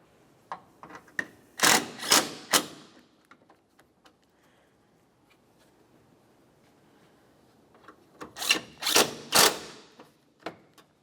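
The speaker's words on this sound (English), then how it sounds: "we'll make sure that we tighten each one of our 5mm Allen head mounting bolts" A tool tightens 5mm Allen head bumper mounting bolts on a 2006-2011 Honda Civic, giving two close clusters of quick ratcheting clicks separated by a long quiet stretch.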